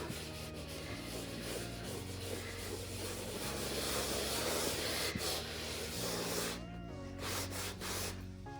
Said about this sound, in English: I guess you're just taking the excess wax off, not necessarily buffing it to a shine.